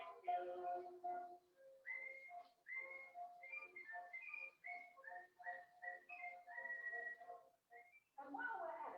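A performer whistles a tune, a bright melodic line of sustained and gliding notes with short breaks, close and fairly clear, with no talking over it.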